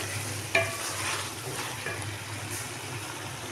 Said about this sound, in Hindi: ये देखें जी, अब हम ये इसको मिक्स कर रहे हैं।